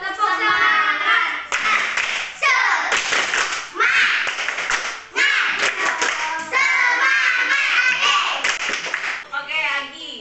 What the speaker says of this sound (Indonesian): Tepuk semangat dulu dong biar semangat